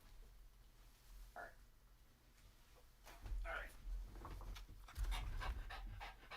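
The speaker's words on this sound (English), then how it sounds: "oh, now the dog's getting loud." A dog pants heavily and rapidly during a live stream, its breathing growing louder and closer partway through, with rhythmic huffs over a low background hum.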